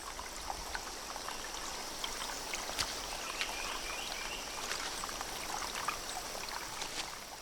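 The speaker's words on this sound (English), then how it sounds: "The water starts to flow." Water beginning to flow in a Bornean stream, a soft, steady trickling and babbling with faint scattered splashes, quiet and continuous with no voices.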